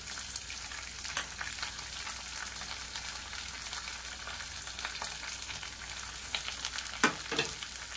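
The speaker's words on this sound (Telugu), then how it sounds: "ఇంకొద్దిగా ఫ్రై అయిన తర్వాత మనం ఉల్లిపాయలు వేసుకున్నాం" Onions frying in a pan, a steady soft sizzle throughout with a few scraping stirs and a sharper clatter near the end, no voices.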